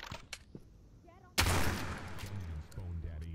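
Gunfire in the Postal 4 video game: a sudden loud burst of shots erupts partway through and carries on as dense, rolling gunfire under game sounds, with talk in the background.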